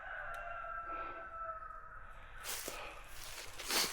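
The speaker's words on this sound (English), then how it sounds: "There's one big rooster." A big rooster crows once among roaming hens in a wooded state park, a faint drawn-out call at moderate distance, followed by rustling footsteps on the trail.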